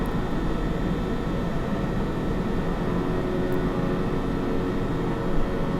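Saab 340 turboprop in the Eurofly flight simulator game, slowing toward landing speed, a steady droning engine and airflow noise that holds level throughout, with no talk.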